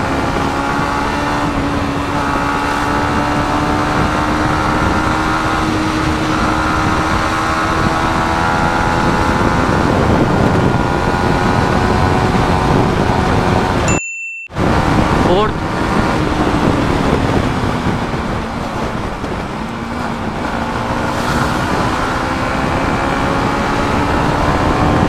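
Yamaha MT-15 V2 motorcycle engine accelerating steadily through the gears, a continuous loud drone with rising pitch, a brief dropout midway, then climbing again under wind noise.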